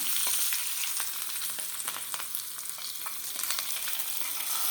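A tempering of dried chillies, curry leaves and asafoetida fries in hot oil while being stirred, giving a steady close sizzle broken by scraping stir strokes, with no voices.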